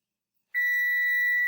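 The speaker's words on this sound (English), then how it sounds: "My timer beeped, so I'm going to stop my timer." A kitchen timer sounding while ramen noodle soup cooks, a single loud steady high-pitched beep starting abruptly after silence and holding without a break.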